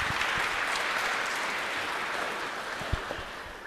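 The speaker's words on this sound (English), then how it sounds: "Warm applause to Bastian." Warm applause from a conference audience at an open data event, dense continuous clapping across the room with a few louder individual claps, no talk over it.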